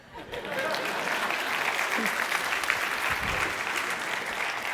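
Steady applause from a lecture-hall audience at a science lecture on gelation and heat transfer, a continuous wash of clapping holding evenly for several seconds, with a voice faintly mixed in.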